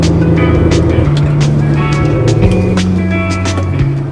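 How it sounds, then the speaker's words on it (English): Thick tree branches scrape and knock against the roof of a moving truck, a steady loud run of scratchy sweeps and sharp raps over the constant rumble of the engine. "It's just some of them are really, really thick branches. You can hear them on the roof of the truck here."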